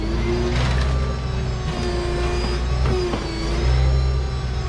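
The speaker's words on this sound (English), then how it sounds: "this is our very heavily used hot mix truck" A heavily used hot mix asphalt truck, loaded with hot material and fitted with burners, runs steadily at a parking lot paving job. The engine is loud and close, with a constant rumble and slight swells, and no voices.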